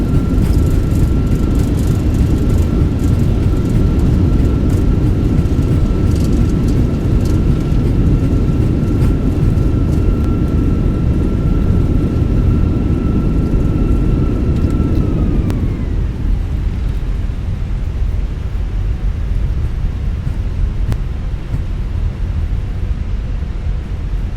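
Reverse thrust roaring from the engines of an Airbus A320 landing at Mumbai in Microsoft Flight Simulator 2024, a loud sustained rumble with a steady whine that drops away as the reversers are stowed and the roar eases.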